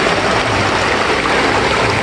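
A stream flows steadily and loudly close by, a continuous rushing wash of water with no voices over it.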